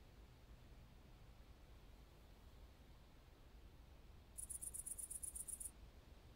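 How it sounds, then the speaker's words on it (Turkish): Crickets chirp in a fast, rhythmic pulsing burst that sounds clearly for about a second over a faint, steady hiss in an otherwise quiet scene. "Cırcır"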